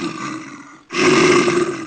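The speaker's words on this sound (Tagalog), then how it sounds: "ang kanyang malakas na hilik ay umuugong sa buong kagubatan" A huge bear snores loudly while sleeping in a cave, heard as two deep, rasping, growl-like breaths, the second louder and longer after a brief pause, with nothing else audible.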